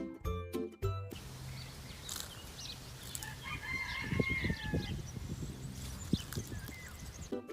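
Guinea fowl calling outdoors, with repeated clucking and harsh cackling notes over steady background noise, moderately distant.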